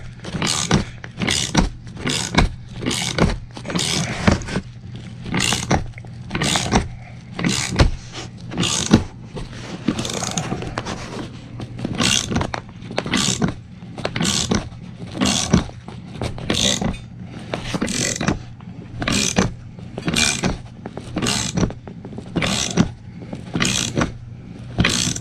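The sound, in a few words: cranking down wheel bearing press on MK2 Scirocco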